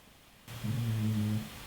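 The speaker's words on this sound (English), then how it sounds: "Is he snoring?" A single low, rumbling snore rises out of near silence, droning for under a second before fading; close and fairly loud.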